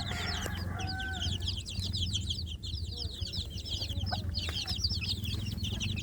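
Village chicks peep in rapid, overlapping chirps while their mother hen clucks low and steadily beside them, a constant chorus of small farmyard birds heard close.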